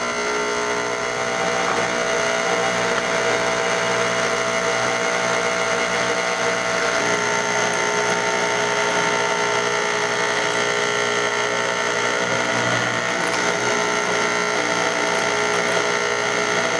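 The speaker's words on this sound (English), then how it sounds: "As you can see, we've got quite a bit of sparking going on, but this is perfectly safe to touch while it's in operation." An Electro Arc Model 3-S portable metal disintegrator runs steadily, a loud, dense buzzing electrical drone with fine crackling from arc sparking, continuous and close throughout.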